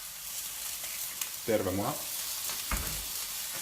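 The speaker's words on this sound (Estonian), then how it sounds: "kana praeb ilusti" Chicken sizzles steadily in a frying pan, a constant crackling hiss heard close up while someone speaks briefly over it.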